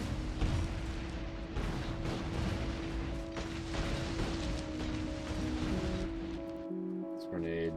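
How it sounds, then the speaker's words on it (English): Grenades thrown in the Factorio Space Age video game burst in a rapid series of muffled booms over constant game background noise, ending in quieter mechanical sounds. "Let's grenade this down too."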